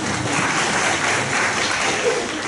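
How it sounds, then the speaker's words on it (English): Audience applause at an academic talk on the Atlas of Emotions, a steady, dense wash of clapping filling the whole moment with no speech over it. "you deserve applause as well."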